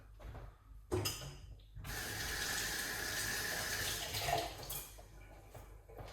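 Water runs steadily into a kitchen sink and drains, a continuous close rushing that starts abruptly and holds for several seconds with no voices.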